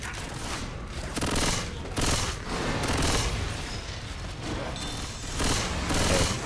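Gunfire in the zombie shooter Left 4 Dead 2, rapid repeated bursts of shots in rolling waves, fairly loud and close, with no clear talking.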